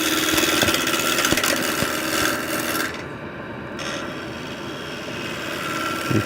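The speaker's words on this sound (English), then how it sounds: "Now just put the speed up around, I think it's 1100 RPMs." A wood lathe spins at about 1100 RPM while a tool cuts into a timber bowl blank, a steady motor hum under harsh, scraping cutting noise that eases off midway.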